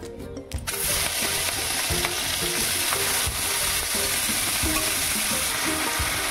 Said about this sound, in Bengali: চিংড়িটাকে আমি হালকা করে ভেজে নেবো, বেশি কিন্তু ভাজবো না কড়া করে